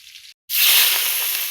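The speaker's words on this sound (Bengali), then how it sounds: "তারপর চিংড়ি মাছগুলো আমি কড়াইতে দিয়ে দিলাম আলু ভাজা তেলের মাঝে" River shrimp drop into hot oil left from frying potatoes in a wok. After a brief silence a loud, steady hiss of sizzling bursts out close by and keeps going without talk.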